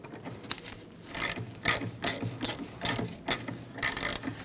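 A tool works a bolt loose on the brake caliper of a 1999-2004 Jeep Grand Cherokee, giving a run of close ratcheting clicks and scraping metal bursts in an uneven rhythm, with no talk.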